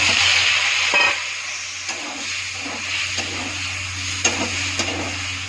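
Potato drops into a hot pan of frying onion and cumin, giving a steady close sizzle with soft scraping stirs and a few small knocks, and no voices.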